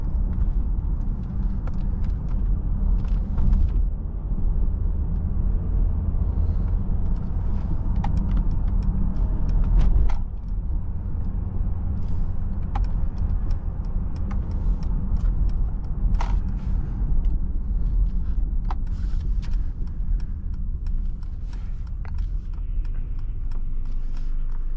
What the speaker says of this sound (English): Pretty smooth acceleration.